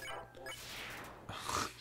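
A dog barks in the video game Undertale: a short run of yips and barks over a soft backing, with a louder burst near the end of the brief stretch.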